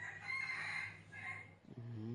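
A rooster crows at a forest campsite during a survival night, a drawn-out call heard fairly clearly, followed by a short second burst of clucking at the end.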